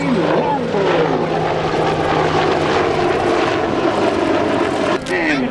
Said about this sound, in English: one of the world's most advanced multi-mission attack helicopters from 120 Squadron, the AH-64D